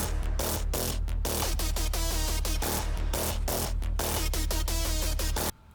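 Neurofunk bass hits and lead synth stabs made in FL Studio play together in a dense, loud, continuous mix. Choppy rhythmic stabs sit over a thick low-end bass, with no voices, and the sound stops abruptly just before the end.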